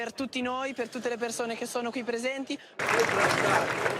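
A crowd cheers and applauds as a funeral convoy arrives, a dense burst of noise that starts abruptly after a stretch of clear narration and continues loudly to the end.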